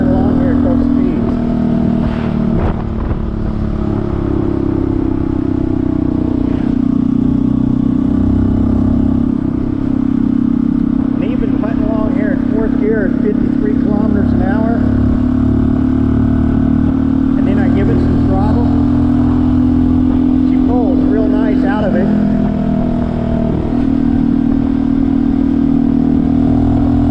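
Honda CT125 motorcycle engine and exhaust while riding at light throttle, a steady loud mid-pitched drone that rises and falls gently with small throttle changes, with a voice talking over it throughout.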